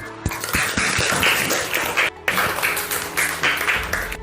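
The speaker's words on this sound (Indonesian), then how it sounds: "Beri tepuk tangan dulu" Students applaud in an Indonesian classroom during a lesson, a loose patter of claps with some irregular louder taps, close by and steady for a few seconds with a brief pause in the middle.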